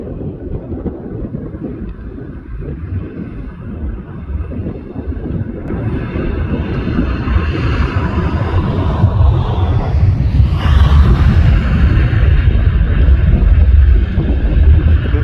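A StarLink rocket launch heard from about six miles away on the NASA Causeway, with wind blowing toward the listener, gives a low, steady roar that swells over the whole stretch and is mixed with wind buffeting the microphone.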